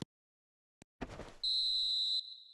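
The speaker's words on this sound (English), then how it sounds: "And there goes the final whistle." The referee's final whistle in an eFootball match rings out as one steady, sharp tone lasting under a second, after a short burst of crowd or stadium noise, and then fades into quiet ambience.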